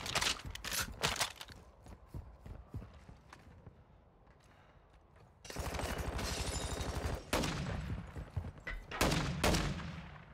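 First-person shooter gunfire: scattered sharp shots early, a quieter gap, then a dense rattling burst of rapid automatic fire and several loud cracks near the end, close and harsh.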